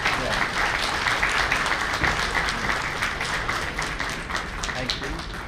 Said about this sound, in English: Can we have a huge round of applause for